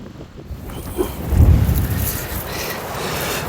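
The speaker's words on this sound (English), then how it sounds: "Well, it's frustratingly windy." Strong gale-force wind buffets the microphone on a seaside beach at Minehead on the Bristol Channel, a steady roar with a heavier gust swelling in the middle, loud and close with no talk.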